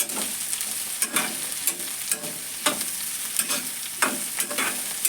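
Okra and onions fry in oil with a constant bright sizzle, broken by regular spatula scrapes and stirring knocks that come every second or so, and no talking.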